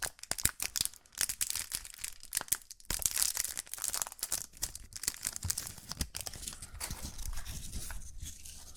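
A wrapped fortune cookie is unwrapped up close, with a long run of crisp plastic crinkling and tearing, soft crackles and rustles continuing steadily with no talking.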